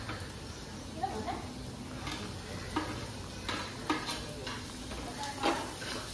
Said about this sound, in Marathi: आता त्याच्यात अद्रक आणि मिरची टाकले.